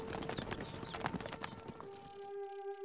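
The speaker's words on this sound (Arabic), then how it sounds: "خيولنا جاهزة. الفرس تعدو." Horses galloping in the PC strategy game Stronghold Crusader HD, rapid clip-clop hoofbeats with a brief whinny, fading out as a tonal game chime rings at the end.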